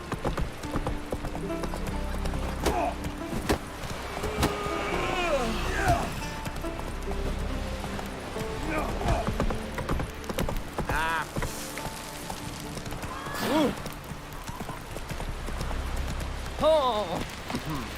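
Roach, the horse in The Witcher 3, gallops with steady clip-clop hoofbeats and a whinny near the end, set against game music and ambient sound, with a voice speaking briefly over it.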